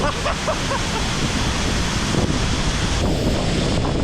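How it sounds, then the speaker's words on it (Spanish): Strong wind roars and buffets the microphone beside a waterfall on Iceland's Reynisfjara coast, with a continuous rushing, surf-like wash of water beneath it. "¡Cómo cae el agua! ¡Cómo genera un viento fuertísimo!"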